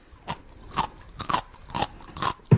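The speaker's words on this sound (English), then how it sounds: "Me too, said Daddy Pig, munching away." A cartoon pig munches food at a pirate picnic, five or six crisp crunchy chews in a quick uneven rhythm, close and alone.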